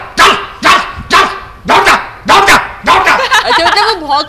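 A dog barks repeatedly in loud, close, evenly spaced barks, about six in a row, ending in quicker yips and whining barks.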